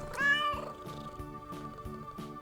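A cat meows once, a clear rising and falling cry near the start, over a bouncy toddler-song backing with a steady rhythmic beat that carries on beneath.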